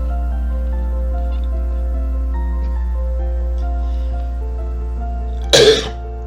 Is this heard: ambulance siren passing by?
no